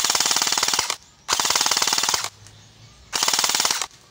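An FJS M4 Jinboo Edition toy gun fires on automatic in three rapid, evenly ticking bursts, each lasting under a second and separated by short pauses, loud and close outdoors.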